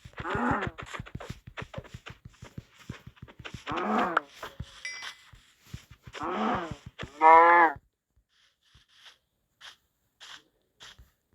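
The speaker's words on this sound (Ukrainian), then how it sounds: "бачу, тут коровки ходять." Several drawn-out cow moos, loud and close, come in bursts with short gaps, followed by quieter clicks and soft noises near the end.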